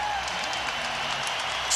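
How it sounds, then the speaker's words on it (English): A SkyDome basketball crowd is on its feet and cheering as Toronto leads the Bulls late in the fourth quarter. A steady, loud wash of crowd roar runs throughout, with faint commentary-like talk mixed in. "Skydome crowd on its feet"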